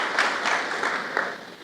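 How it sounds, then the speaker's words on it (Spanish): A church congregation applauds during a service, a brief, steady burst of crowd clapping that fills the space with a few louder swells and no talk over it. "Fuerte aplauso a la gloria del Señor."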